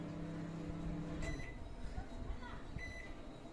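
Panasonic 27-litre convection microwave oven (NN-CT66HBFDG) running on a five-minute setting, a faint low hum with a few soft high beeps or clicks, close by in a quiet room.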